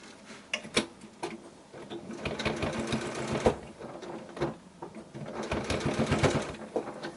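A sewing machine bastes a label into a quilted zippered pouch close to the fabric edge, running in bursts of fast, steady mechanical stitching with brief pauses and handling clicks between runs.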